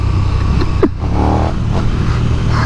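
A 2021 KTM 1290 Super Duke R motorcycle engine pulls hard under acceleration, a loud continuous roar climbing in pitch with a brief shift-like dip partway through, heard up close from the rider's position.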